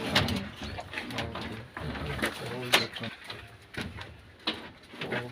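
Trumpeter pigeons and local Kenyan feral pigeons coo in low, soft murmurs, repeated throughout and partly buried under steady conversation and background rustle.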